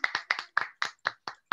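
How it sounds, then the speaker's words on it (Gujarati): Applause for children's performance at a Bal Sanskar Kendra in Godhra: about eight sharp, evenly spaced claps in a steady rhythm, close and crisp, with nothing else heard. "તાળીઓના ગગડાટ થી ફરી વધાઈશું બાળકોના એફર્ટ ને"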